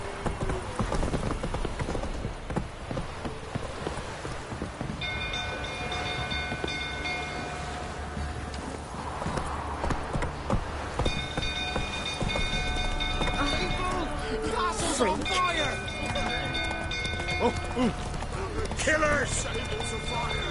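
Geralt's horse Roach galloping in The Witcher 3: Wild Hunt, a fast, steady drumming of hooves that carries on throughout, mixed with game music and effects and with someone talking over it.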